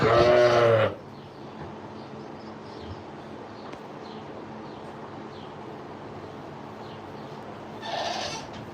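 A sheep with pink eye lets out a loud, close bleat, then quiet outdoor background, then a second, softer bleat near the end.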